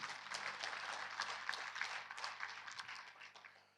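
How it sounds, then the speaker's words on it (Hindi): Faint, fairly distant applause from an audience at a youth talk, a spread of many hands clapping at once that stays steady, then gradually thins and tapers toward the end. "ताली बजाई जाए।"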